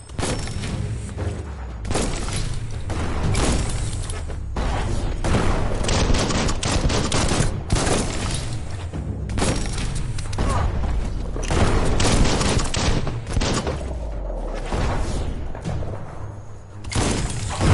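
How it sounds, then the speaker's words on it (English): Explosive launcher fire in the video game Biomutant, with a dense run of gunshot-like blasts, booms and shattering crashes rattling on through the stretch, loud and close with only short pauses. "That's a bomb lobber."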